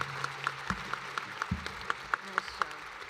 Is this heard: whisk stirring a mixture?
no